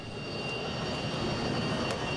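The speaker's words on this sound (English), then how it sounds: "the A-4 Skyhawk, with an extra seat for an instructor, is serving its last years in the Navy as a training plane" Steady, continuous roar of an A-4 Skyhawk jet training plane engine, a two-seat Navy trainer, with a broad even rumble and faint high whine, with no speech over it.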